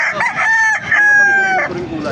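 A rooster crows loudly and close by at a chicken market in Baliuag, Bulacan. It gives one long, ringing cock-a-doodle-doo that breaks partway through and then trails off into clucking and background bustle.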